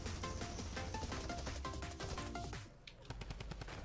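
Dense automatic gunfire rattles continuously during a Fortnite match, with the rapid bursts easing briefly and then resuming.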